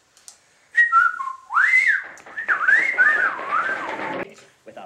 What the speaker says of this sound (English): causing synchronized whistling